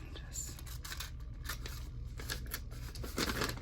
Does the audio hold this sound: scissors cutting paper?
yes